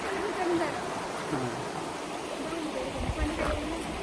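A river near Pahine Waterfall in Nashik rushes in a steady broadband wash under people talking as they walk.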